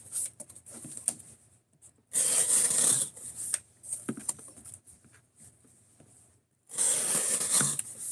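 A knife blade is drawn through a material with resistance, making rough rasping, scraping strokes. Two long loud bursts stand out among shorter, softer scrapes and brief pauses, close up and without talk.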